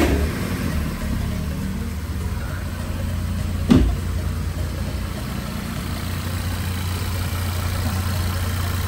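A VW Golf Mk6 car engine catches with a brief sharp surge, then settles into a steady, even idle rumble that continues to the end.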